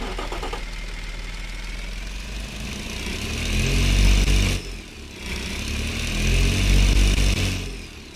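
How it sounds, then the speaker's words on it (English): A turbocharged engine in the Automation car game, running with no catalytic converters or mufflers, drones loudly and revs up and down in two steady swells, with a brief dip between them. "give you a brief here of what this engine sounds like"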